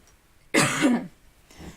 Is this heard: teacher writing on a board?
no